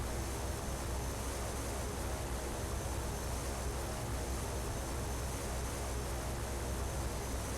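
A Cessna 208 Caravan turboprop taxiing in X-Plane 11 with a little power added, a steady broad whooshing hum with a constant tone, unchanging and fairly loud for over seven seconds.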